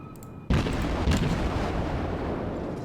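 Naval guns fire in the video game World of Warships: after half a second of near quiet, a loud, close boom bursts out and a second blast follows at about one second, both rolling into a sustained rumble with no voices.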